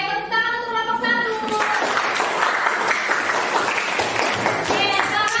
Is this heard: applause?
yes